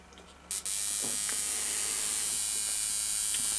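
A flyback transformer driven by a sine wave buzzes harshly, kicking in abruptly after a brief quiet hum and then holding a loud, steady electrical drone with a piercing high whine on top.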